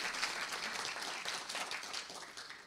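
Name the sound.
audience applause for the congressman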